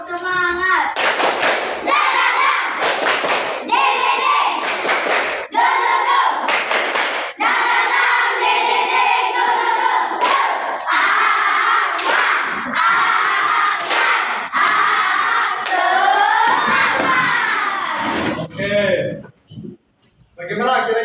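Children stand and do a rhythmic clapping ice-breaker, sharp group claps landing in regular bursts alongside loud chanted voices, close and energetic, fading into quieter chatter at the end.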